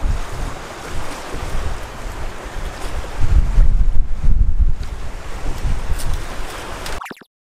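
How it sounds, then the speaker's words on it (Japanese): Strong wind roars steadily around a fishing boat at sea during a stormy Spanish mackerel outing. The loud buffeting swells in the middle, with waves surging underneath, then cuts off abruptly. "風強っ。"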